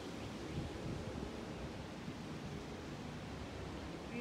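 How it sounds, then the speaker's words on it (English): Strong wind blows through a garden during a wind advisory, a steady, broad rushing roar that buffets the microphone and runs without a break. "there's a lot of wind again. We're in a wind advisory right now"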